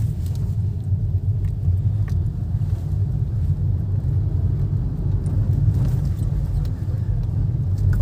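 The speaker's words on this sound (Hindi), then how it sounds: "अब डिवाइडर के पास से गाड़ी टर्न हो रही" A Hyundai Nios hatchback turns beside a road divider near a bus stand area, its engine giving a steady low rumble with road noise throughout, close and continuous, while a person talks over it.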